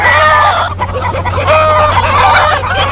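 A crowd of chickens clucking and squawking continuously in a chaotic Kuala Lumpur street setting, loud and close, over a constant low rumble of traffic.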